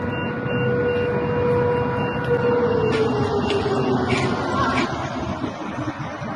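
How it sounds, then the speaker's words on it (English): Warning sirens sound across Bahrain during an Iranian missile attack on U.S. bases: a steady, wailing tone that slowly bends in pitch, held continuously over a dense wash of outdoor background noise. "Breaking sirens sounding in Bahrain."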